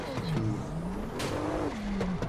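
A drift car in the CarX Drift Racing Online video game revs its engine hard in second gear, a continuous droning whine rising and falling in pitch, steady and loud throughout.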